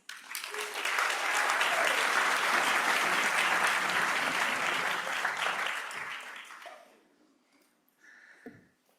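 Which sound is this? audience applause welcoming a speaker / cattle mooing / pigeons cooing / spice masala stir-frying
audience applause welcoming a speaker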